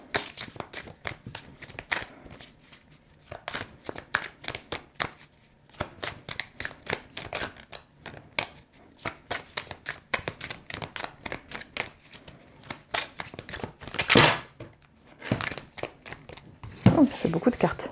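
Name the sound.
shuffling tarot cards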